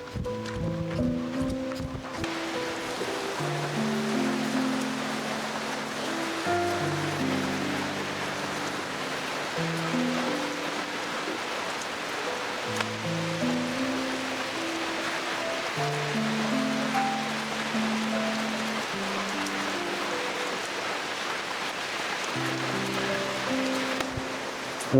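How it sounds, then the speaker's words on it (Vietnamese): Heavy rain falls in a dense, constant hiss throughout, loud and even, while a gentle melodic music track plays over it. "Trời mưa."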